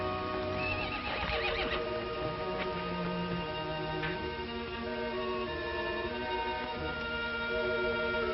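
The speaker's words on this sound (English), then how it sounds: "It's your horse, standing out there as pretty as can be." A horse whinnies loudly and shakily, then snorts and neighs again amid faint hoof clops, fairly close and without talk.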